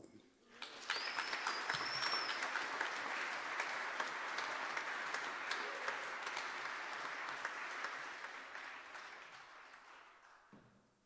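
A concert audience at a Christmas jazz event applauds for about ten seconds, a dense sustained wash of clapping that starts abruptly, holds steady and then tapers off, with a brief whistle near the start.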